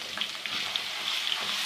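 Garlic ginger paste fries with green chilies for a dhaba-style mash daal, giving a steady, moderately loud sizzling hiss close up with light crackles.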